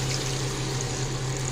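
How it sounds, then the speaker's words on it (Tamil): Water being poured into a pot of crab curry, a steady, fairly loud stream and trickle lasting the whole moment with no pauses. "இதில் வந்து தண்ணி சேர்த்துக்கலாம்."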